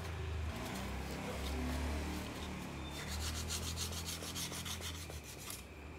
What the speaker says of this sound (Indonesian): ini juga rada kasar nih, kita amplas dikit.